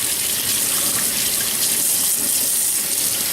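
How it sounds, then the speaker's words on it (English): Steady, loud rush of tap water running into a sink while beets are scrubbed clean of dirt, a continuous broadband splash with no talking over it. "get all the dirt washed off"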